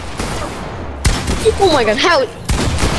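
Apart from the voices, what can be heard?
gunshots in Fortnite video game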